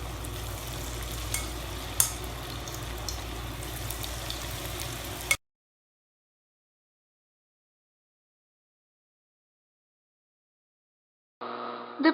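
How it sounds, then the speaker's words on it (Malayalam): Spoonfuls of onion pakoda batter fry in hot oil, a steady bubbling sizzle with a light clink, then silence, then the sizzle returns briefly; no voices. "ഓരോ സ്പൂണും ചൂടായ എണ്ണയിലേക്ക് ഇട്ട് കൊടുക്കണം"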